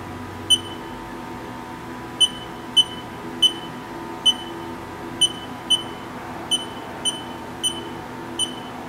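A Haas TL3-W lathe sounds its alarm as a series of short, sharp electronic beeps at irregular intervals, about a dozen over several seconds, over a low steady machine hum in a shop.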